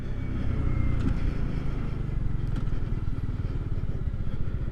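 A 2020 Kawasaki Z125 Pro motorcycle being ridden, its small engine giving a steady low rumble throughout under constant wind noise, heard from the rider's position.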